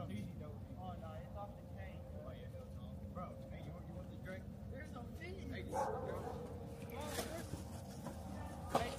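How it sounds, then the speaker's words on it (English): A dog barks and yips faintly in the distance on a property, several short barks spread under people talking and background noise. "There's a dog."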